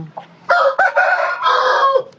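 A single loud, close rooster crow, drawn out over about two seconds and heard on its own.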